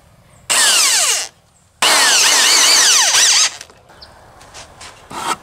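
Power drill driving 2-inch exterior deck screws into wood for a DIY Christmas decoration, two loud, sustained bursts of about a second each, followed by softer clicks and handling noises.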